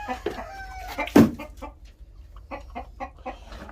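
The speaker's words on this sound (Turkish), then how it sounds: "Silver Brakel horozumuz ve tavuğumuz da buradalar." Silver Brakel chickens, a rooster and hen, cluck and squawk nearby, with one loud sharp call standing out, followed by a run of rhythmic clucking.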